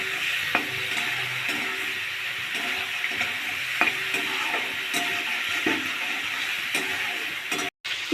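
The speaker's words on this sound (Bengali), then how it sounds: "দেখো আমার চিংড়ি মাছ ভাজাটা হয়ে গেছে" Shrimp fry lightly in a pan for an aloo chingri curry, giving a steady, close sizzle with occasional stirring clinks and scrapes and no talking.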